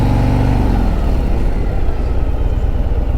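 Engine of a 2026 Harley-Davidson Road Glide touring motorcycle, a loud, steady low rumble heard up close with no talking, its pitch settling from a higher rev down to a lower throb.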